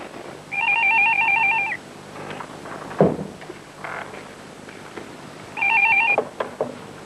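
A telephone rings in two distinct bursts of trilling electronic tone, each lasting about a second, separated by a quiet gap with faint room sounds and a soft knock, in a 1990s drama scene.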